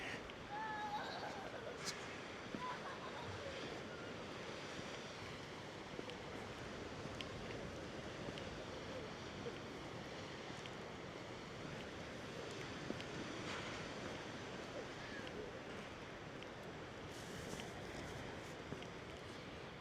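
Wind and water at a harbour at high tide on a mild mid-February day make a faint, steady broadband rush. Light wind buffets the microphone throughout.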